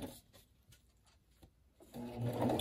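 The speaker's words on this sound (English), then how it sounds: "just going to my sewing machine and stitching" A sewing machine stitches journal pages onto slit hinges, a run of quick close mechanical needle taps followed by a louder, denser whirring burst of stitching.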